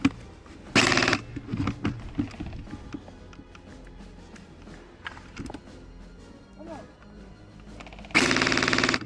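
Airsoft guns fire in bursts on an outdoor field, with loud rapid volleys near the start and end and scattered single shots and clatter in between.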